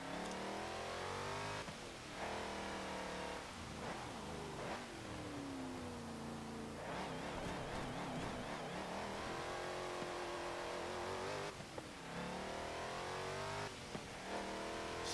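A 2016 Jeep Trailcat in Forza Motorsport 7 revs hard and loud without a break, its engine note climbing and dropping again with each gear change while it accelerates, and no one speaks over it.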